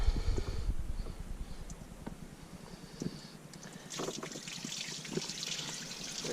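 Water trickling and splashing as it drains from the crossover line of a V-drive boat's engine exhaust during winterizing, a steady close dribble that grows heavier partway through.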